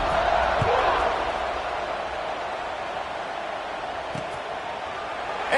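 A stadium crowd at an LSU vs Cal college football game, a steady broad roar of many voices buzzing after a score, continuous and fairly loud throughout.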